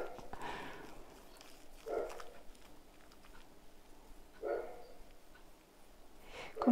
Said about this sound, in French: Si vous entendez aboyer, ce sont mes chiens.